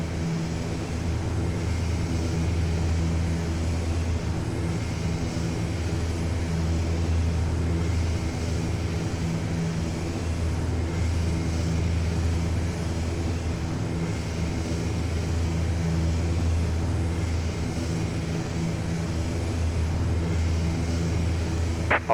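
An ATR aircraft in DHL livery powers up for takeoff in the X-Plane flight simulator, its engines a steady low drone and broad roar that holds even and continuous throughout, with no speech.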